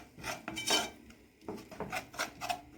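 Flour is stirred into hot butter in a pan, a spoon scraping and clinking against the metal in quick, uneven strokes, close and fairly soft.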